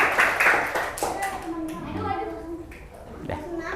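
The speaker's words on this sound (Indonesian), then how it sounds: "Balik tepuk tangan." Clapping in a classroom as pupils applaud a group's presentation, a short burst of hand claps close by, fading quickly amid children's chatter and voices.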